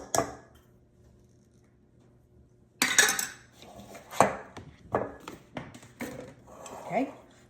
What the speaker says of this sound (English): let's give all that a good mix